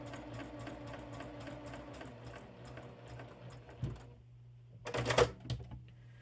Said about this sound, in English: you just do a simple stitch along the edge, kind of like that